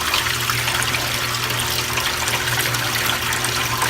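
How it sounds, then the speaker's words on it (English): Water drains steadily from a Panda PAN56MGW2 compact portable washing machine, a continuous close rushing and trickling flow with a low motor hum underneath, fairly quiet and unbroken throughout. "We'll see when it starts to drain to see how much noise it actually makes, but the noise is pretty minimal, nothing too loud. It's draining."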